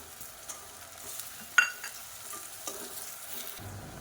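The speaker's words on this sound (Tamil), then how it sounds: "இப்போ இந்த வெங்காயம் நல்லா பொன்னிறமாக வதங்கட்டும்" Onions and mint sautéing in oil in a pan, a gentle sizzle under intermittent stirring scrapes, with one sharper clank of the utensil midway, close and fairly quiet.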